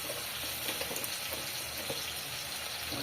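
Oil heats and fries ingredients for khichuri in a home kitchen pot, a soft continuous crackling hiss with faint watery bubbling throughout, no talk.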